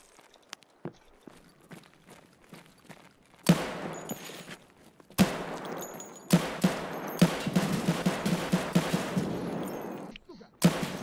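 Gunfire from a video game, shooting inside a parking garage: sparse faint shots and steps at first, then loud reverberant bursts of rapid fire in several volleys echoing off concrete, with no talk.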